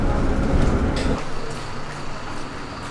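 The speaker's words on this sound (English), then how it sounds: "We're in the shuttle bus right now to the terminal for the boats." A free shuttle bus drives toward the boat terminal at Milford Sound. A loud low rumble from the engine and road drops off after about a second and leaves a steadier, softer interior drone.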